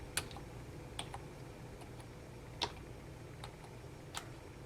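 A VEILZOR wireless rechargeable ergonomic keyboard being typed on, giving a few sparse, faint key clicks spaced irregularly over a quiet background, with no talking.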